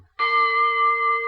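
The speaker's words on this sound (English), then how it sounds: "And 3 for the gong." A gong struck once on a vintage Hollywood radio drama broadcast, ringing out with a bright, sustained metallic tone that holds steady and loud without fading.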